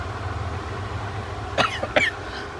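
Two short coughs close together, about half a second apart, over a steady low hum of background noise.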